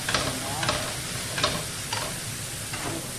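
Garlic sizzles steadily in a hot pan for tomato rice while a utensil stirs it, scraping in a few soft, regular strokes over the constant frying hiss.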